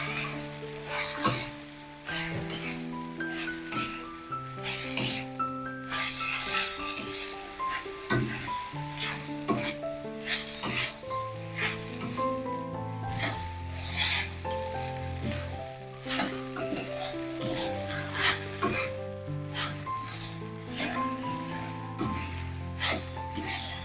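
Pumpkin shoots stir-fried with egg and wet shrimp being stirred in a pan, a continuous sizzle heard under loud music, with scraping strokes from the stirring.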